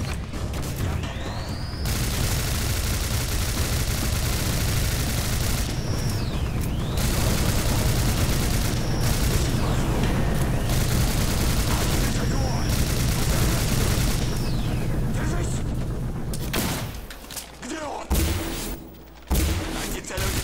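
Gunfire in the video game Singularity: dense, sustained bursts of shots and booms roar almost continuously for about fifteen seconds, then thin out into scattered, quieter blasts.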